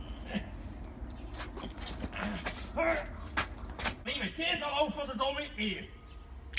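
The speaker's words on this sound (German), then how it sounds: "jetzt müssen wir mal schauen, wie sich mein Hund freut, wenn ich heimkomme." A dog whimpers and yelps excitedly as its owner comes home, with soft high whines and pattering movement running under a person talking throughout.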